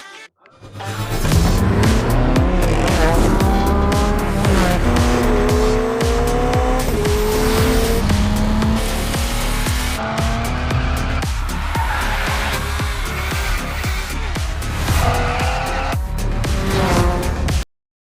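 BMW car in the racing video game The Crew Motorfest, loud revving engine rising and shifting through gears with sustained tire squeal and skidding, continuous and close throughout.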